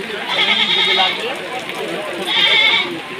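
Goats bleat in a couple of drawn-out, wavering calls close by at the Baneshwar goat market in Rajshahi, with people talking underneath.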